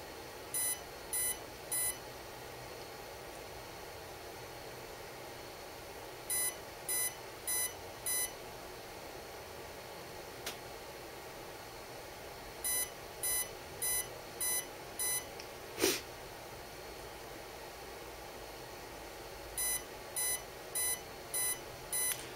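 Quiet electronic beeps from a Kontronik Jive speed controller in setup mode repeat in short evenly spaced groups of four over a low steady hum, with a couple of faint clicks in between.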